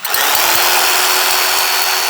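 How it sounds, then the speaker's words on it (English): A Sawzall reciprocating saw powered by a Titan solar generator starts up and runs loud and close, its motor giving a dense, continuous buzzing roar with a faint rapid pulsing underneath and no voices. "Let's go ahead and spice things up a bit and add in our Sawzall."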